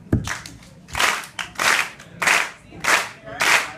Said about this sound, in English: I'm gonna need you all to clap in time for about 80 seconds.